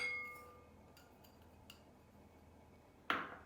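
A spoon clinks against a bowl while sugar is mixed, a few faint light taps spread out over several seconds, then one sharper, brighter clink near the end, in an otherwise quiet kitchen.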